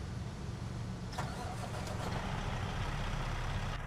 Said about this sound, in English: Let's go ahead and start up the truck here.